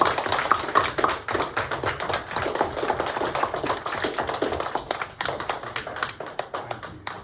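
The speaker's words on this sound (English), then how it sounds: "So can we please give Mr. Cameron a big clap?" An audience of pupils and adults claps at a primary school awards ceremony, a sustained round of many hands beating quickly and unevenly. The applause stays fairly close and steady throughout, with no talking over it.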